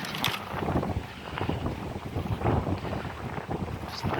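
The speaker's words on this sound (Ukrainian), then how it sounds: "Сьогодні в нас вітер" Gusty wind buffets the microphone outdoors, a rumbling, uneven roar that rises and falls throughout.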